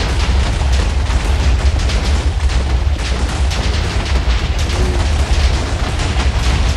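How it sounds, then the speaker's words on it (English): Dense, continuous booming explosions from modded Minecraft gameplay, loud and sustained throughout with no pauses, heavy rumbling low end and crackling bursts layered together. "I don't even know if you can hear me over the sounds of the explosion of death."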